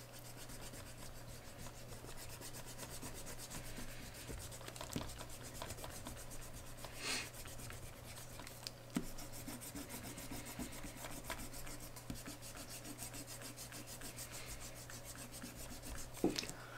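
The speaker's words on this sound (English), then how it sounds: "I like to come in with my eraser and just go ahead and erase all those extra little pencil lines." An eraser rubs out pencil lines on paper for an art lesson. It makes a soft, continuous scratchy rubbing close up, with occasional louder strokes and taps and no talk.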